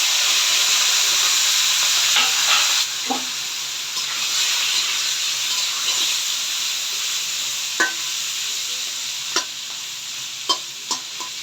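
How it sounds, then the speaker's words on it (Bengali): Pieces of fish coated in turmeric, chili powder and salt fry in oil in a pan, giving a steady close sizzle with occasional sharp pops and spatters over about eleven seconds, with no talking. "একটু ভালো করে ভেজে নিব মাছগুলো"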